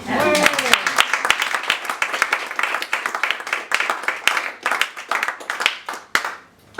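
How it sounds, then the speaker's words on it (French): Theater audience claps for a comic solo performer: a dense, lively patter of hands runs through most of the stretch, with voices briefly mixed in near the start, before thinning to a few scattered claps at the end. "Sous vos applaudissements."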